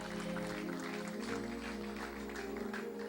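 A congregation at a religious gathering applauds in a continuous, fairly full burst of clapping, with a sustained musical or vocal tone running beneath it.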